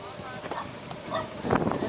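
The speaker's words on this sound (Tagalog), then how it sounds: "Ay, may aso." A dog near Monte Cristo Cave gives a few short, sharp barks and yips against outdoor background noise, while people talk nearby.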